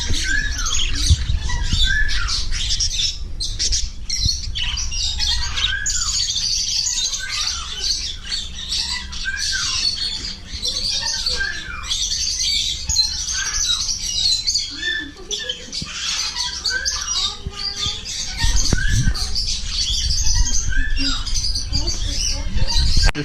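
Pet birds squawk and chirp repeatedly throughout, with dense rodent-like squeaks and a steady busy background, while people talk intermittently nearby.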